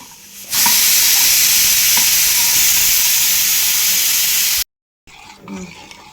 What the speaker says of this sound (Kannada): ಈ ಥರ ಮಿಕ್ಸ್ ಮಾಡಿ